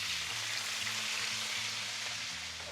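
A big bag of spinach with garlic frying in a pan, a steady close hiss and crackling sizzle that holds evenly throughout, no talk.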